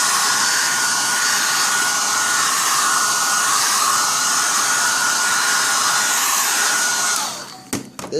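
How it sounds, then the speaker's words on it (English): Hair dryer on a low setting heating vinyl wrap, a steady close whooshing blower hum that runs evenly for about seven seconds before cutting off, followed by a few handling clicks. "grab hairdryer on a low setting"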